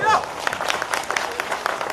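An audience at a live religious gathering breaks into quick scattered clapping, a brief patter of hand claps close by with voices mixed in.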